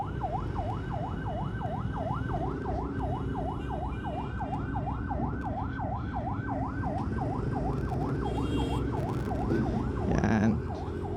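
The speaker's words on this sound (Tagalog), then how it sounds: "nakasunod tayo dito sa ambulansya" An ambulance siren wails steadily in a rapid, rising-and-falling cycle, loud and continuous over the rumble of city traffic heading toward Cubao at midday.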